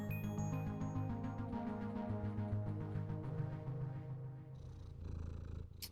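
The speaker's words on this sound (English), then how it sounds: "You get to pet the cat" A cat purrs steadily while being petted in a video game. The soft, continuous purr runs throughout with a looping game tone and no talk.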